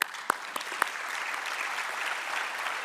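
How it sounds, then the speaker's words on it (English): Audience applause for distinguished panelists at an Internet Governance Forum cybersecurity, trust and privacy session, a few sharp claps at the start swelling into steady, dense clapping from a sizable crowd in a conference hall. "please join me in giving the distinguished panelists and experts a big round of"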